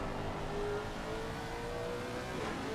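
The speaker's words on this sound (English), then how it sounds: "Gonna listen to that nice Lexus engine" A Lexus race car engine in a racing video game holds a steady, loud drone that rises slightly as it revs, continuous throughout with no voices.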